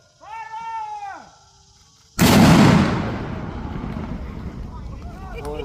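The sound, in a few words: Civil War cannon firing at historic site reenactment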